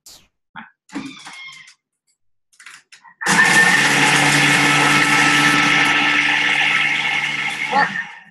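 A food processor whirs at speed 7, mixing butter with oats and other ingredients. The steady, loud motor drone runs for about five seconds and then cuts off. Brief sounds and handling noise come before it.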